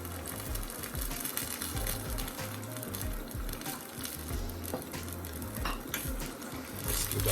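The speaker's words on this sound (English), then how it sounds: "Just give that a stir now" Pineapple pieces and pineapple juice stirred into sweet and sour pork in a pan, with a busy scraping and clattering of a utensil against the pan over a light sizzle, repeated and fairly close.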